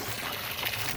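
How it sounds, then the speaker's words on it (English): Steady rushing, splashing water pours out of a pump continuously, a broad hiss with no pauses, close by and moderately loud. "Wow, it's like a volcano of water"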